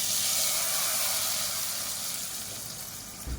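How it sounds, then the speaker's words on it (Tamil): A tempering of browned garlic and onion is poured over green gram sambar, producing a loud, hissing sizzle that slowly eases off over a few seconds, with no talk. "சேர்த்துட்டு அதுக்கு மேலே அப்படியே இந்த தாளிப்பை ஊற்றிடலாம்"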